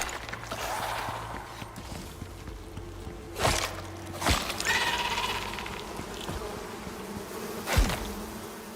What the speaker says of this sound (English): Now the bees are a little annoying because the beehive is actually in the rock.